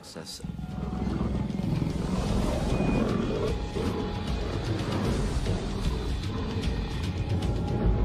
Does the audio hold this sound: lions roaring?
yes